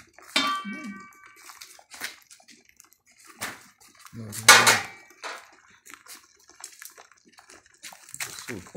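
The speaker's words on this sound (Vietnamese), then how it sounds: "Tiếp tục bắt đầu vớt bánh chưng nồi thứ hai nhá." Boiled bánh chưng rice cakes are lifted one after another out of a large pot heated over a wood fire, with intermittent close splashes of water, drips and clattering, while people talk now and then.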